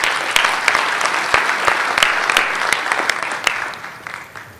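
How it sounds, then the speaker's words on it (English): Audience applause at a Microsoft Build 2018 conference session after a talk on Adaptive Cards, a dense steady clatter of many hands clapping, close and loud, lasting the whole stretch and tapering slightly at the end. "Can't believe they're applauding for my question already."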